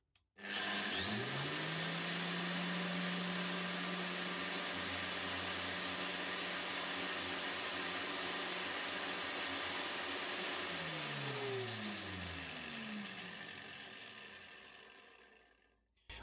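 A Dewalt DWE 4117 950W angle grinder runs without load, spinning up to a loud, steady high-pitched whine that holds for several seconds, then winds down as it is switched off.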